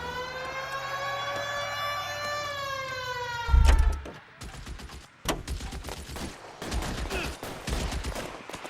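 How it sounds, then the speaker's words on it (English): Gunfire in an L.A. Noire shootout: after a wailing siren fades, sharp gunshots crack out in uneven bursts, some single and some clustered, fairly close and loud over a busy background. "Open fire!"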